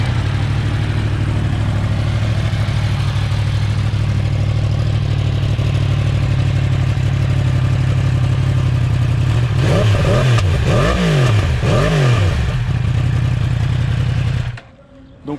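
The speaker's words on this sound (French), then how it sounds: "Donc au ralenti, ça ratatouille un petit peu. C'est inhérent au moteur crossplane" A Yamaha R1 motorcycle's crossplane engine idles with a lumpy, uneven beat, then revs sharply several times before cutting off abruptly near the end.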